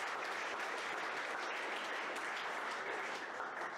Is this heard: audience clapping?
yes